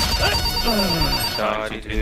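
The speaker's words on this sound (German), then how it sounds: "Das Telefon klingelt." A telephone bell rings loudly and insistently in repeated electronic trills, running through the whole moment, while a voice speaks over it.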